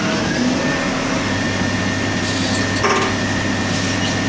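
A Dainichi metal lathe parts off a workpiece cut with an M20 by 2 mm internal thread. It makes a loud, steady, broadband machining roar with slight shifts in tone and no pauses.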